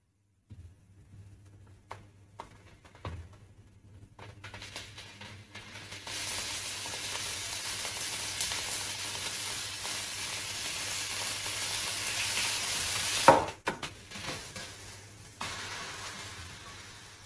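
Monkfish pieces browning in a hot pan, with tomato then added: a steady sizzle and hiss builds and holds, a sharp flare of crackling as the tomato goes in, then the frying settles with a faint low hum underneath.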